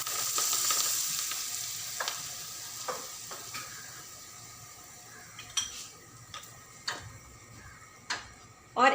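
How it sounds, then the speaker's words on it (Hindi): Ghee worked into flour-coated onions for lachha paratha, heard as a soft hiss with scattered light clicks and scrapes of a utensil against the bowl, growing more frequent toward the end. "उस प्याज में हम इस घी को मिक्स करने वाले हैं"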